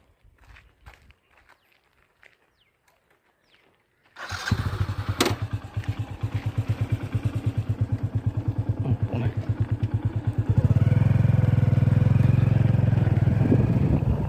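A motorcycle engine starts after a few seconds of quiet and settles into a fast rhythmic idle, then revs louder and steadier as it pulls away along a roadside plot of land.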